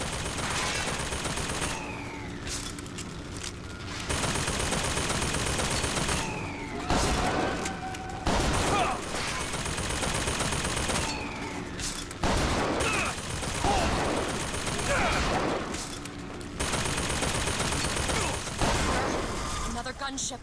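Heavy volleys of gunfire from the volley gun in Bioshock Infinite, loud bursts of explosive blasts and crashes recurring every few seconds through a chaotic combat scene, with a voice speaking between shots.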